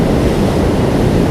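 Swollen Alaknanda river in the mountains, rushing hard after torrential downpour, a loud continuous broadband roar of churning water filling the whole moment with no pause.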